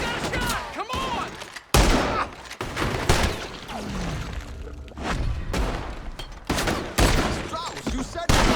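Gunfire during a Red Dead Redemption 2 shootout, sharp shots cracking in irregular bursts, some loud and near, with voices shouting through the exchange.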